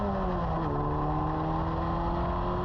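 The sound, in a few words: Formula Ford race car engine running in first gear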